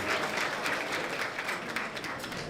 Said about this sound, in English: a round of applause for all the athletes competed well today.